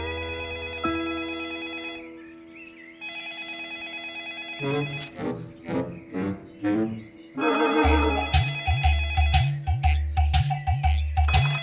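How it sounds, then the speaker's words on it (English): A telephone rings on a balcony on a bright morning in an animated fairy-tale cartoon, with repeated rings over light background music. "his phone rang."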